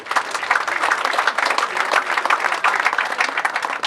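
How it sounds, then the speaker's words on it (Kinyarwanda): Applause from a village crowd in Mwororo for the local village leader, a dense, steady clapping that fills the whole stretch at close range without letting up. "nimwongere mumuhe amashyi"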